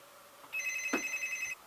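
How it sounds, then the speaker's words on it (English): A telephone gives one short electronic ring, clear and close, about a second long, with a soft thump partway through and a quiet room hum behind it. "There's a phone call."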